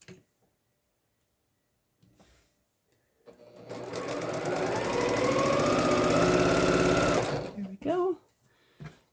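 Sewing machine stitching quilt pieces, starting after a quiet pause and running steadily for about four seconds in a fast, loud mechanical whir, then stopping, with brief talk at the end.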